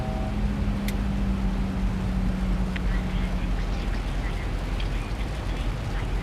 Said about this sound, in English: Looks like some heavy rain here